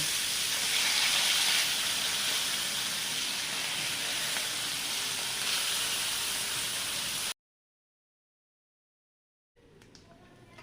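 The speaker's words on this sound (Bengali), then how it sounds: "পুঁটি মাছ ভাজা হয়ে গেছে, আমি এবার তুলে নেব।" Small puti fish frying in hot oil give a steady, bright sizzling hiss that holds evenly for about seven seconds and then cuts off abruptly.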